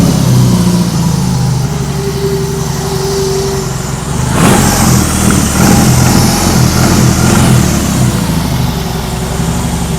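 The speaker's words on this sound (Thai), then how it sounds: "ฟังเสียงยนต์ดีกว่าครับ" A 2022 BMW R18B motorcycle engine runs steadily close by, a loud, low, continuous idle that gets a short blip of throttle partway through and then settles back to a rough, even rumble.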